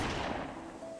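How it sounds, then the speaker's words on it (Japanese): A single muffled gunshot boom with a rumbling tail decays over about a second in the Switch otome game Harukanaru Toki no Naka de 7, heard on its own. "銃声が近づいてきた"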